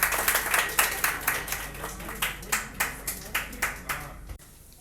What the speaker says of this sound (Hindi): विजय कुमार जी के लिए एक बार जोरदार तालियां